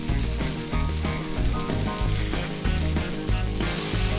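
Eggs fry on a griddle alongside bacon for a cheeseburger, giving a continuous loud sizzle with crackling, pulsing bursts throughout.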